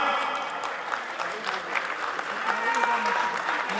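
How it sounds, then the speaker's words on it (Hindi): An audience claps steadily at a souvenir release event marking a birth centenary, a dense, even patter of applause at moderate distance throughout. "जोरदार तालियां।"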